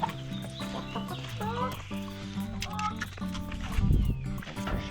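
A chicken clucking in a workshop during work on a rally Corvair, several short close clucks over a busy background of clattering and a deep thump, with people talking.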